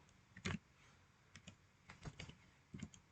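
Keystrokes on a computer keyboard while coding a Flutter signup page, a few quiet clicks and short bursts spaced irregularly, close and soft with no talking.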